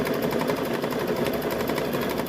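An embroidery machine stitches quilting on a Halloween quilt, a rapid, steady mechanical chatter of needle strokes running continuously at close range.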